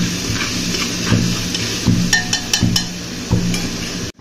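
Three whole dried red chillies frying in oil, a steady crackling sizzle with several sharp clinks of a utensil against the pan, close and clear with no talking.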